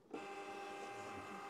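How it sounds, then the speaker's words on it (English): A receipt printer fires its cash drawer open, a sharp electronic buzz that starts abruptly and holds steady for over a second, close and alone. "and fire the cash drawer."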